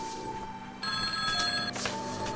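A telephone rings in the horror video game Bear Haven Nights 2, a clear electronic bell tone repeating in bursts over a faint background drone, close and prominent.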